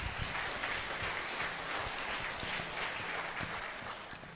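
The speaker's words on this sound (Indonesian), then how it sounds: "tepuk tangan buat beliau" Dense, sustained audience applause during a public lecture by Papua's chief prosecutor at Musamus University, a full hall clapping steadily at strong volume, fading slightly at the end.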